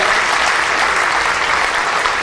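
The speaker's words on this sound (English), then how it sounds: "Let's give them a nice round of applause." A theater audience at a magic show in Lawrence, Kansas claps loudly and continuously for the sound and lighting crew. The applause is close, full and unbroken.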